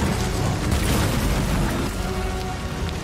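Grenade explosion in the video game Death Stranding, a deep rumbling boom that swells and then rolls off into a long, noisy decay, with no talking over it.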